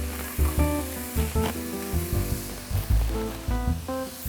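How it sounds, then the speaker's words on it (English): Asparagus sizzles in a hot pan with salt, a steady crackling fry close up under gentle stirring clatter, with no talking. "When it starts sizzling, you could put on about 2 pinches of salt, and then you could add your asparagus."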